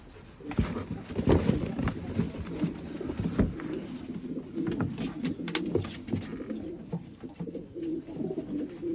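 Pigeons coo repeatedly in soft, throaty murmurs, close by, with scattered rustling and clicks around them.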